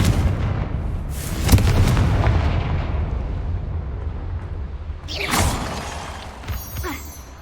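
Fire-spell blasts go off in the Hogwarts Legacy video game: a heavy boom followed by long rumbling debris, then a second crackling explosion around the midpoint and a smaller burst near the end, with no voices.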